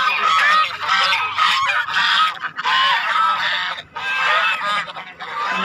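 Geese and ducks at a pond honk continuously and loudly, a dense overlapping flock chorus close by with no talking.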